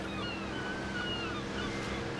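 Sea waves surging and breaking against a rugged coast in rough conditions, a steady, dense roar with wind buffeting the microphone, continuous and fairly loud throughout.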